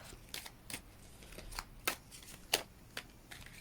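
Tarot cards are shuffled in a quiet room, giving a series of crisp riffling and snapping bursts at uneven intervals, close to the listener and heard on their own.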